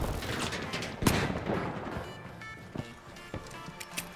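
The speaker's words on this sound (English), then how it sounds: "Using a flashbang!" Flashbang and gunfire in the video game The Finals: a sharp burst around the start followed by scattered cracks and pops, mid-distance and sharp, with no voices.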